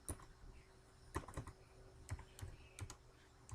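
Typing on a computer keyboard while writing Python code, with sparse, irregular key taps and a few sharper clacks spread over several seconds, fairly quiet and close, with no talking.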